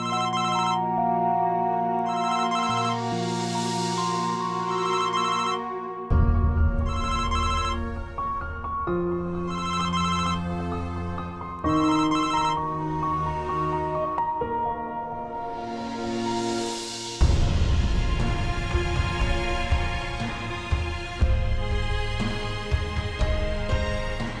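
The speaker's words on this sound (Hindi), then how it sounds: "तुम्हारा फोन बजे जा रहा है" A melodic phone ringtone plays on and on, repeating its tune in loud phrases with brief pauses, no voices present.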